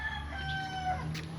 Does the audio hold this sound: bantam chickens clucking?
yes